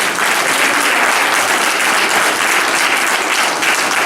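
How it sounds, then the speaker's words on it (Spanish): Strong, steady applause from a church congregation at a Pentecostal evangelical service, dense and loud throughout without a break. "Un aplauso fuerte al Señor."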